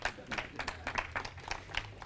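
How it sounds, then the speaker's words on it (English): An audience at the Crime Journalists Association of Kenya launch at DCI headquarters in Kiambu claps for a journalist, giving fairly faint, steady scattered applause from a distant crowd. "I think that one deserves a clap"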